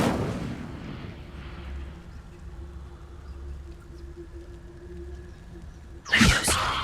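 Hogwarts Legacy's Incendio fire spell lands as a sudden loud burst near the end, after a stretch of quiet ambient game background.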